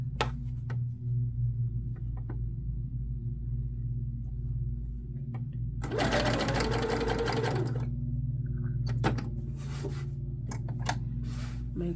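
Domestic sewing machine stitching a blouse made from a sheet and pillowcase, running slowly in a steady hum with a louder burst of rapid stitching midway, close by, over a low background drone.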